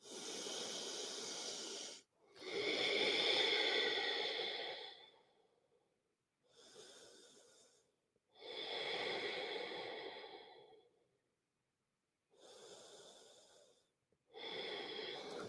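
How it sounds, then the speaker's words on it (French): Slow, deep breaths during a Yin Yang yoga class, each long airy inhale or exhale separated by short silences, close and steady with no talking. "Trois dernières respirations ici."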